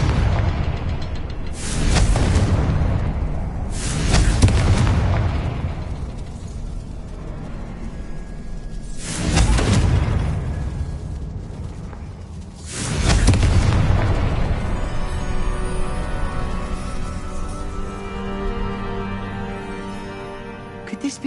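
Confringo fire-spell blasts in the Hogwarts Legacy video game land as several deep booming explosions spaced a few seconds apart, each followed by a rumbling decay over background game sound.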